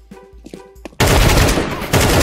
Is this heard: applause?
no